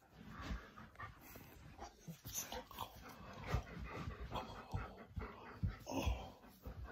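A male pet dog whimpers and pants softly at close range, with small yips and restless snuffling scattered across the stretch, no words spoken.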